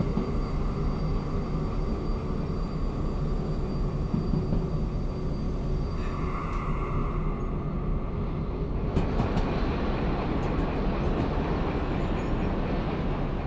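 A heavy freight train rolls steadily in the railway game Derail Valley, with a continuous low rumble and rail noise throughout, the texture shifting partway as brakes or track sounds come in.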